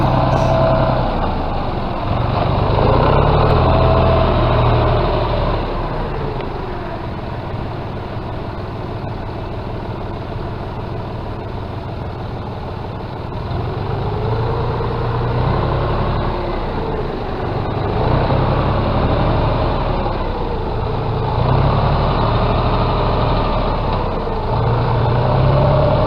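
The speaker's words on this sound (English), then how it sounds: "This is a 4-wheel drive tractor with an ag type tires, 52 horsepower." A John Deere 5202 four-wheel-drive 52-horsepower tractor with loader and ag tires idles nearby, a steady loud diesel rumble with slight swells in engine note throughout, no talk.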